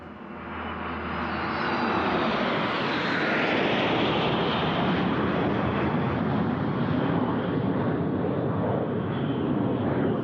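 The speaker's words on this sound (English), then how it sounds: "Vyazma Rus fly the Aero L-39 Albatros advanced trainer." An Aero L-39 Albatros advanced jet trainer flown by the Vyazma Rus display team at a Russian Air Force anniversary airshow: a loud, steady jet roar that swells over the first two seconds and then holds, with no voices.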